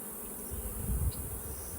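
Honey bees hum around an open hive during a honey-box inspection, a steady, soft, close drone with a faint swell partway through.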